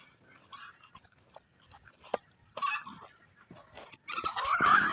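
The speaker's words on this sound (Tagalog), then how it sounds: "Ang ating mga manok ay gutom na." Hungry chickens clucking and squawking on a farm as they are fed, scattered calls rising into a busier, louder flurry toward the end, with a dog and pigs sounding faintly nearby.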